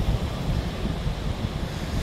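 Sea waves on the shore rush steadily with a full low wash and wind buffeting the microphone, continuous and near, with no voices.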